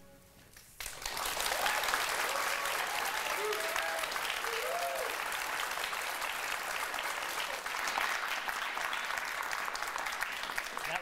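After a brief quiet opening, an audience breaks into loud, sustained applause welcoming the candidates at a Colorado Congressional District 8 debate, a dense wash of clapping that holds steady for about ten seconds, with scattered voices underneath.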